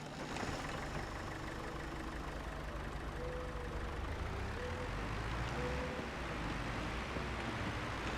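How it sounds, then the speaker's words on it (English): A small tractor engine in Farming Simulator 22 idles and runs with a steady low rumble and mechanical chug, continuous and fairly close, with faint game tones layered over it. "Alright, let's go ahead and grab our little tractor here."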